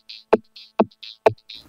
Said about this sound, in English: we can play around a little bit with the hiss and buzz section, because now it's set to buzz